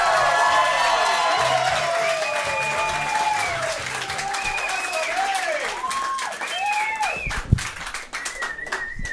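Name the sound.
comedy club audience applause and cheering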